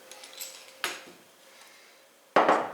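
A pastry cutter slices through a moist chocolate olive oil cake, giving a few sharp clicks and scrapes against the plate or board, two louder contacts separated by quiet, close by.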